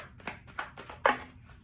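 Tarot cards being shuffled by hand in three or four quick, papery riffling bursts, the last one sharpest and loudest, with no talking over them.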